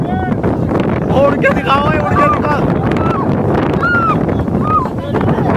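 Strong wind blows at an outdoor spot where a buffalo stands, roaring steadily across the microphone while someone shouts repeatedly over it.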